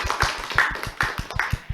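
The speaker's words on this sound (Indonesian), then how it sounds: "untuk ketiganya kita kasih tepuk tangan terlebih dahulu" Schoolchildren at a student religious speech event clap in a quick, even rhythm, a small close group with sharp hand claps repeating about every fifth of a second.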